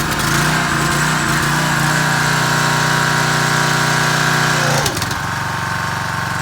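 A Craftsman pressure washer with a 190cc Briggs & Stratton engine and a Quiet Sense throttle runs loud and close at full throttle, then drops in pitch near the end as it throttles down toward idle.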